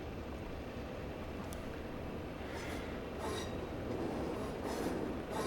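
A Pacer diesel train in Train Simulator 22 heads from Penzance toward Paddington with a low, continuous rumble, and wheel clatter rises slightly over a few seconds.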